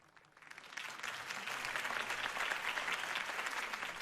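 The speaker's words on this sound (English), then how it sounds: "If only Mr. Wayne, my campaign's largest backer, could have heard that applause" Applause after a campaign speech for Harvey Dent, a crowd's clapping swelling in over the first second and then holding as a dense, steady roar of hands.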